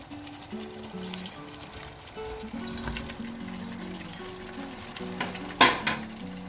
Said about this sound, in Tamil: இந்த ஸ்டேஜில் நம்ம பொரிச்சு வச்சுருக்க இந்த சிக்கனை அதில் போட்டுக்கலாம்.